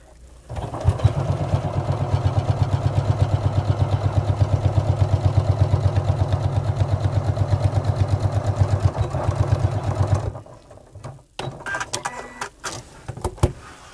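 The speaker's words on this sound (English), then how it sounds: "So I'm going to machine sew it." A sewing machine runs steadily at close range while stitching a fabric bag, its rapid mechanical clatter continuous for about ten seconds before stopping, followed by a few scattered handling clicks and rustles.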